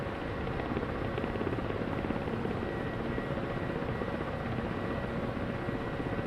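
Ka-50 Black Shark coaxial-rotor attack helicopter in the DCS combat flight simulator, a steady, dense rotor and turbine drone filling the whole stretch at constant loudness with no voices.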